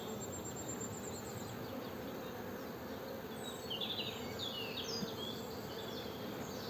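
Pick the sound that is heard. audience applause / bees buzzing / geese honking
bees buzzing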